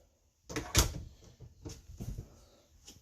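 An RV bathroom door in a Keystone Cougar 364BHL travel trailer opens or closes quietly, giving a soft latch thump followed by a few light knocks and rattles.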